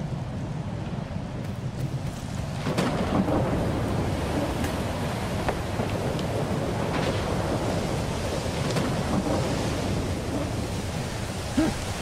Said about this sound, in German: Also wer gern bei Unwetter einschlafen mag, das ist eure Zeit.